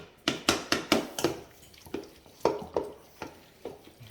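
A spoon stirs butter through cooked noodles in a pot for homemade mac and cheese, giving a string of distinct scraping, tapping strokes at an irregular rhythm, close by and with no talk.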